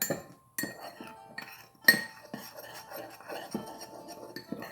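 Black salt ingredients being mixed in a bowl: a spoon clinks and scrapes against the sides in short, uneven bursts, close by and fairly quiet, with brief pauses between strokes.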